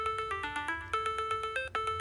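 A phone rings out a bright, repeating electronic melody of quick pulsed notes, triggered from a TrackR pixel Bluetooth tracker to locate it; loud and close with no talking.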